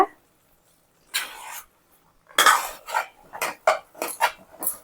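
Tomato coconut milk pulao stirred in a pot, a spoon scraping and clinking against the metal in a run of short, close strokes after a brief voice at the start.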